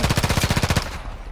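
A fast, evenly spaced machine-gun burst of about a dozen loud shots in the video game Warzone 2, cutting off abruptly and leaving a brief fading tail.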